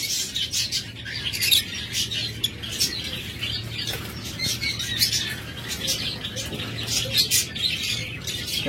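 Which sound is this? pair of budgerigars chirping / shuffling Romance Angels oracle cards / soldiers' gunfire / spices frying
pair of budgerigars chirping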